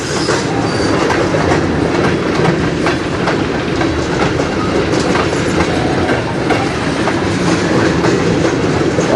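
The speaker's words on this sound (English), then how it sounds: "We got some tankers coming." A freight train of tank cars rolls past close by in Sarnia, Ontario, a loud steady rumble with rhythmic clickety-clack of wheels over rail joints and faint wheel squeal throughout.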